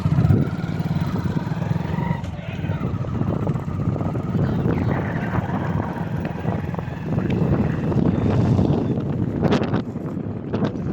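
Strong wind buffets the microphone in a constant low roar by the Padma River at Paksey, with a few sharp knocks and faint sounds behind it.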